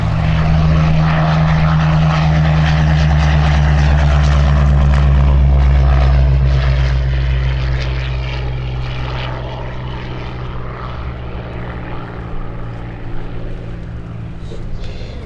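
A Spitfire Mk.V flies past at Sywell Airshow, its loud propeller engine droning heavily and close at first, then fading gradually as it moves away.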